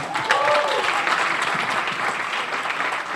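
Dense applause from a press conference crowd fills the whole stretch, steady and loud, with a few whistles or cheers rising near the start.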